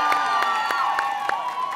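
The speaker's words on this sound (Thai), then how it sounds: "ขอเสียงปรบมืออีกครั้งให้กับน้องพอใจของเราด้วยนะครับ" Audience applause and cheering at a children's television show, a dense, steady wash of clapping and shouts sustained throughout.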